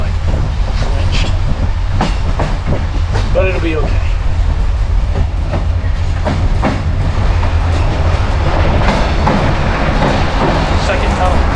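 Inside a moving passenger train crossing into Serbia, a loud steady rumble with rattles and clicks from the rails; a person speaks briefly over the noise.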